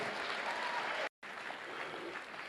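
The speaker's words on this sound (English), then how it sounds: "Give yourselves a round of applause" Audience at a motivational speaking event breaks into steady, dense applause, broad and continuous with a brief cut in the middle.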